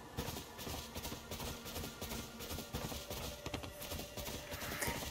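Galloping hooves of a moose mount in the video game Nier Automata, a steady rapid clip-clop rhythm running continuously and loudly with no talk over it.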